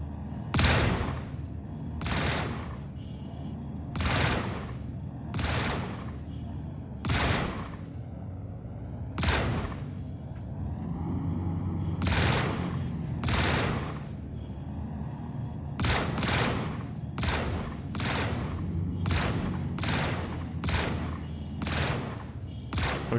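Ship cannons firing in the space game Star Citizen, heavy bursts of repeated shots in staggered volleys with short pauses between, steady rhythm throughout and no talk.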